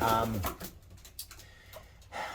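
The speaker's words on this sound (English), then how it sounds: "I've still got all these birds in here that we need to sort through" Racing pigeons coo softly inside a loft, low murmuring calls heard faintly beneath a man's nearby speech.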